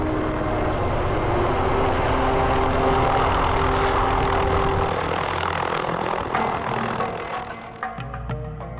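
Helicopter in flight airlifting tortoises strapped beneath it during a Galápagos volcano evacuation, heard as a loud, continuous rotor and engine roar that eases slightly toward the end, with faint rhythmic blade chopping.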